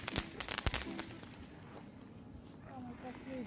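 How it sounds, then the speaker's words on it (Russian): Fireworks in an animated cartoon, a rocket that falls over and fires into a snowdrift, burst out in a rapid run of sharp crackling pops. The pops then fade to a quieter tail while a voice is heard. "купив салют, который упал и начал расстреливать сугроб, пугая прохожих"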